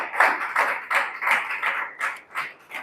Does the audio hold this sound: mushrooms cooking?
no